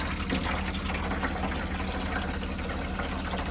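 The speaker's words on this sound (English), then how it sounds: "There's warm water coming through there already." Water running steadily from a camper van sink tap fed by a pump, a quiet, continuous splashing stream with no talking.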